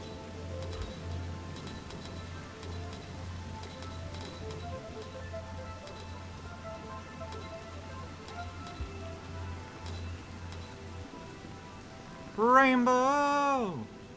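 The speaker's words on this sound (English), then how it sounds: "Waiting for the rain to calm down one day." Steady light rain from a storm in the game Rain World patters with scattered ticks throughout, and near the end a bright wavering musical tone briefly rises over it.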